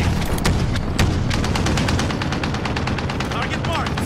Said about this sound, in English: Got the sentry gun on me.